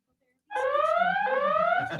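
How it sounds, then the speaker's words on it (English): An alarm sound effect plays on a live talk show: a loud, shrill electronic tone that rises steadily in pitch, dips once, then climbs again, sounding alone for about a second and a half. "And Lonzo has made an alarm."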